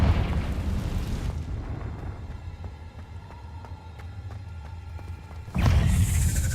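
The Confringo blasting spell in the Hogwarts Legacy video game goes off as two loud, booming explosions with rumbling low end, separated by a quieter crackling, ringing stretch, with no voices heard.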